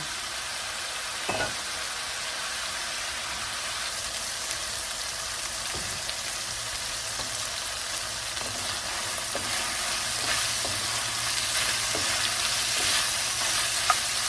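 Chicken browning in a frying pan gives a steady, close sizzle that runs the whole time, with a few soft clicks of stirring or utensil contact and no talking.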